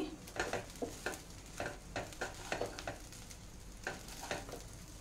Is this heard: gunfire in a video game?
no